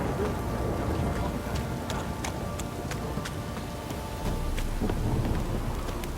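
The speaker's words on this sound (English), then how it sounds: "This downpour's a bastard, it is." Heavy rain in the video game The Witcher 3: Wild Hunt pours steadily in a dense hiss, with scattered sharper drops and a low rumbling undertone, constant and close.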